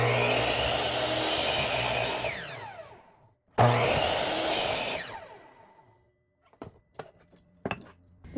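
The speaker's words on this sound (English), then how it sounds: "I trimmed the aprons to the final size using my chop saw" A chop saw trimming MDF cabinet aprons, with two loud cuts, each a spin-up whine through the board followed by winding down, then a few sharp knocks and handling clatters as the piece is moved.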